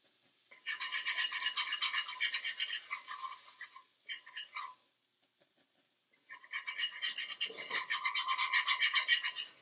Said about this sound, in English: add and whisk in your 3 tablespoons of flour